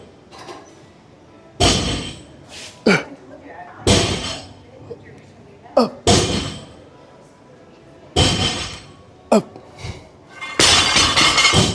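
Loaded barbell plates, including a 225-pound lift, crash down onto a gym floor again and again in loud, sharp impacts spread through the stretch, with brief gaps of room noise between slams.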